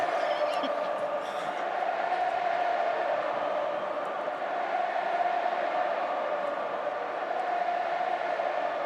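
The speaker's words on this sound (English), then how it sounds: "Sounding like a Perth Glory crowd now." Steady, dense roar of a large football crowd at a 2005 AFL match between Fremantle and Collingwood, with sustained cheering and loose chanting filling the whole stretch without a break.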